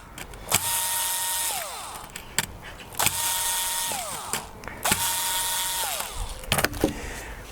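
An electric screwdriver spins and whines in repeated bursts as screws are backed out of a model railway fiddle yard board, each run ending in a falling pitch and a click, close and loud with no talking.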